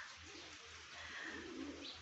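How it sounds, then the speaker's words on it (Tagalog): Soft, low pigeon cooing repeats steadily through the clip, with faint bird chirps and a light outdoor hiss behind it. "Ang daming kalapati."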